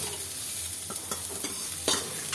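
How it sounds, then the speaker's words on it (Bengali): Fried cauliflower pieces are scooped out of hot oil in a kadai, soft sizzling under several sharp scraping clicks of a utensil against the pan, close and fairly quiet. "ফুলকপিগুলো সব তুলে নিলাম"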